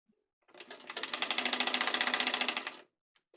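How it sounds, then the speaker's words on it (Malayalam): A sewing machine stitches a straight seam across the pleated yoke of a nighty. It makes a steady, rapid mechanical whir for about two seconds, close and alone, then stops abruptly. "ഈ ഒരു 3 ഇഞ്ച് വരെ ഞാൻ ഒന്ന് സ്ട്രെയിറ്റ് ആയിട്ട് അടിച്ചു പോകുന്നുണ്ട്"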